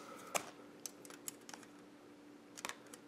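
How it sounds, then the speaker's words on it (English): Scissors snipping plastic model kit pieces off the runner for a Bandai Figure-rise Super Saiyan 4 Goku, a few sharp, close, quiet clicks and snips spaced irregularly with no talking. "you're going to want a decent pair of scissors to cut all of these pieces off"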